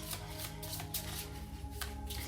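A deck of tarot cards being shuffled close by, quick riffling flutters in several bursts over a soft steady background, with no talking.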